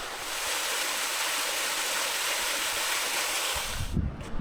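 A waterfall on a New Zealand island pours in a steady, dense broadband rush, continuous and close, with a few low thumps near the end.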